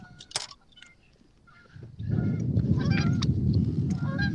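Geese honking by a lake, a few sharp honks at first, then a louder, denser burst of overlapping honks and flapping-like noise from nearby birds.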